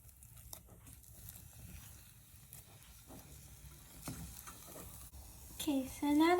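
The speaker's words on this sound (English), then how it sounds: "Mix until it's a dough." Flour dough for churros being stirred in a pan, with soft, steady scraping and mixing noises that grow louder and busier toward the end.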